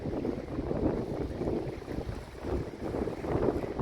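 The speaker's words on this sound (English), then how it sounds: "It's quite windy. I imagine it's struggling to pick up my voice, as the wind is right in our faces at the moment." Strong wind on a rocky sea headland at Penrhos near Holyhead buffets the microphone in a continuous low roar, swelling and easing in gusts, with no voices.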